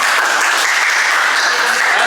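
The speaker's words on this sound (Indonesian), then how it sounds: "Tepuk tangan buat Mas Eko." A classroom bursts into dense, loud applause for a student named Mas Eko, the clapping continuous and close throughout.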